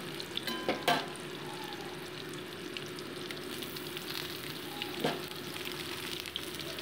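Potato pieces fry with bitter gourd in a hot pan and give a steady close sizzle. A couple of sharp stirring scrapes stand out near the start and again midway, and no one speaks.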